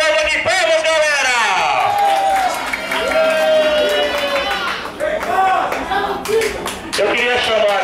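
An audience claps loudly and continuously, mixed with cheering voices and a chatty crowd din that stays prominent throughout.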